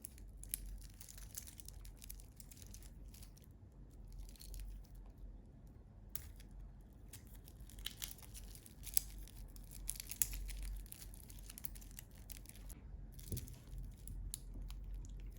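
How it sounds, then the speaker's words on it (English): A Zenea Ula diver watch package being unwrapped, with continuous crinkling, tearing and rustling of wrapping held close and steady throughout, plus a few sharper snaps, and no talking. "Let's go ahead and unwrap this first."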